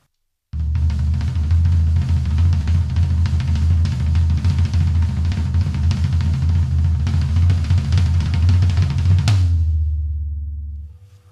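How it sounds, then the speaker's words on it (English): A fast, dense double stroke drum roll on a low, booming floor tom, sustained and loud for about nine seconds before cutting off and ringing out. "let me play some slow stuff going into fast on I'll do it on this floor tom"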